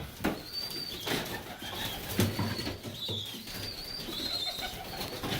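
Young homing pigeons in a loft coo softly and continuously nearby, with a few wing flaps and faint chirps mixed into a steady, slightly noisy background.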